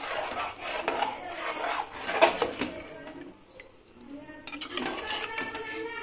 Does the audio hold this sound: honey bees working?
no